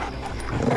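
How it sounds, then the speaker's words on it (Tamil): A dog barks briefly in a busy street scene from a Tamil comedy, its short yelps mixed into dense surrounding noise rather than standing alone. "என்ன நாய் ஓடி போச்சு?"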